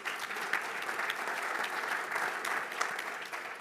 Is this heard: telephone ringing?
no